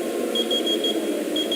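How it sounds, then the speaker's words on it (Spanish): Alarm on a small electronic device beeping in short, evenly spaced high pips over a steady hum of room noise, close and clear with no talk. "Miren, esa es la alarma."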